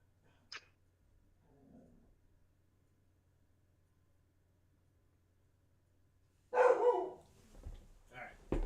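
A dog barks near the end, a loud close bark followed by a couple of softer huffs, after mostly quiet room tone with faint small sounds.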